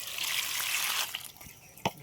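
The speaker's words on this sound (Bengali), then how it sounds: "एबार मुड़िगुलो भालो करे जल दिये आगे धुए नेब।" Puffed rice being rinsed with water in a kitchen, soft trickling and splashing of water for about a second, then quieter with a small sharp splash near the end, faint and close.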